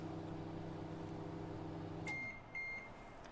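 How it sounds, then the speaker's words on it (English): A Robam microwave oven hums with a steady tonal drone, then cuts off, and a pair of electronic beeps follows. The sound is close and there is no talking. "3 seconds later, the oven will begin working for vegetable"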